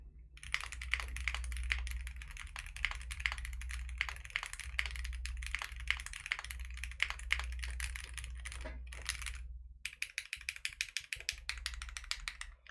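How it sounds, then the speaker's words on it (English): Rapid, continuous typing on a JRIS65 gasket-mount mechanical keyboard without case foam, crisp, clacky keystrokes, close and steady, with a brief pause before resuming; no voices. "The keyboard sound without any case foam or foam is already very, very good."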